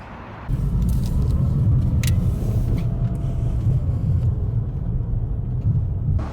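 A Nissan Skyline R34 drives past close by with a steady, loud engine rumble and road noise that holds for several seconds.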